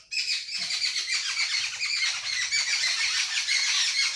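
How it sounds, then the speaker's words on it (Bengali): Birds chirp and squawk busily in a leafy home garden on a rainy monsoon day, near and fairly loud, with dense overlapping high calls running throughout. "তার সঙ্গে পাখিদের কিচিরমিচির আওয়াজ।"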